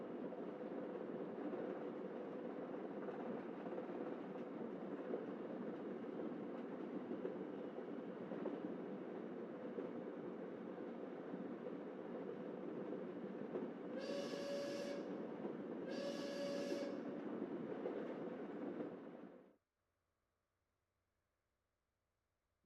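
A video game train rumbles along its rails in a steady, continuous drone. Near the end two short whistle blasts ring out before the sound cuts off to silence.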